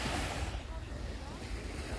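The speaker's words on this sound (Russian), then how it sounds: "Вот пляж района Махмухлат." Surf washing onto a pebble beach with stone slabs in the water at Mahmutlar, Alanya, a steady broadband rush of waves with wind buffeting the microphone throughout.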